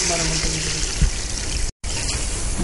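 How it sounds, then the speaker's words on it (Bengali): Soaked, sprouted paddy seeds being prepared for wet direct seeding are poured out in a steady, close, watery rush that pauses once briefly before continuing. "এই কলা করানো বীজটা আমি ঢেলে দিচ্ছি।"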